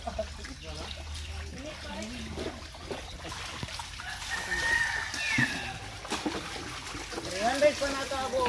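A large flock of chickens, around four hundred birds gathered for slaughter beside a river, clucks and crows in the background while people talk over them and water trickles nearby.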